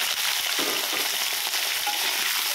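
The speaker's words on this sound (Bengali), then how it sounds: "এরপর কড়াতে আমি আলুগুলো দিয়ে লাল লাল করে ভাজবো।" Potatoes frying in hot oil in a kadai wok, a dense, constant close sizzle that stays loud and even throughout, with no voices.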